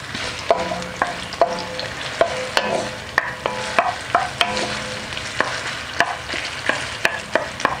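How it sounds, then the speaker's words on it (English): Sliced onion sizzling in hot oil in a pan while being stirred, a steady close frying hiss broken by regular clacks of the utensil against the pan, with no voices. "That's a nice sizzle. I'm going to give it a stir."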